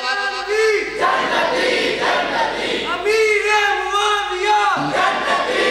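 A large crowd at a religious gathering shouts loud unison chanted responses to slogans led over a sound system, the voices swelling in repeated waves between pauses, with a leader's amplified voice prompting.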